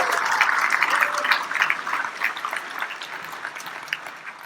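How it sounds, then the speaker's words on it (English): Audience clapping for a presenter during a software demo session, a steady, dense patter of many hands held at a moderate level for several seconds without a break. "let's clap for Elliot"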